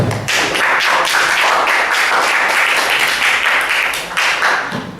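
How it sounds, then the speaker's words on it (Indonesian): A classroom of students bursts into applause after a group presentation, loud dense clapping from many hands that rises quickly, holds steady for several seconds, and then begins to thin out. "Beri aplaus"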